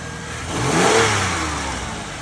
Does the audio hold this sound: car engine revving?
yes